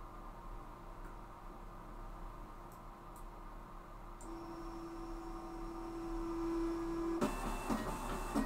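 A Voron V0 3D printer runs an acceleration speed test, giving a faint steady whir with a thin stepper-motor tone that shifts partway through, then a louder, busier buzz of rapid movement toward the end.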